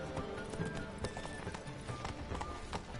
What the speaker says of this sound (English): Move, I'm riding my horse here